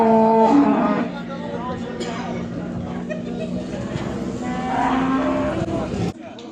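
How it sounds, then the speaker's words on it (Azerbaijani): Calves at a livestock market in Beylagan moo in long, loud, drawn-out calls, several in succession, close by, over a background of crowd chatter and someone talking. "bax belə mallar var. Saxlanca gedən danalar."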